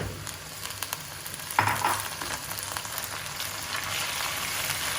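Minced meat frying with onions in a pan gives a steady sizzle with a sharp burst as it is stirred, then settles into continuous crackling, fairly close and without voices.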